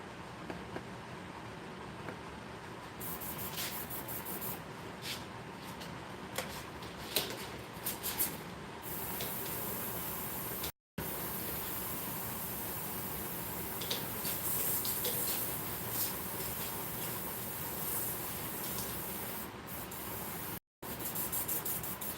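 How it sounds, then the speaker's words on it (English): An airbrush being cleaned by spraying 99% alcohol through it gives a steady, close hiss of spray that runs almost without a break. There are a few short gaps and faint clicks, and no one speaks. "I'm going to clean my airbrush up a little."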